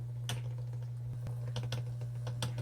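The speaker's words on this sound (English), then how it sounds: "let's go ahead and do a typing demo." A 1958 Smith Corona electric typewriter, Alpine Blue, is typed on in a sparse series of crisp key strikes over a steady low electric motor hum, close and fairly quiet, with no voices.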